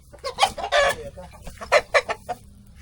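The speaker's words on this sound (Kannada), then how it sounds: "ಇದು ನಮ್ಮ ನಾಟಿ ಕೋಳಿ ಐತಿ ಇದು ಪೈಟ್ರಿ ಕೋಳಿ ಐತಿ" Several native, fighter and Kadaknath chickens cluck and squawk close by on a farm in a lively burst of calls, with short bursts of crowing mixed in among farmyard background noise.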